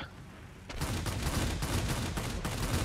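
Heavy aircraft gunfire in World of Warplanes: after a short quiet lead-in, a loud, dense stream of rapid shots starts and pounds on steadily to the end, a continuous rattling barrage with no voices.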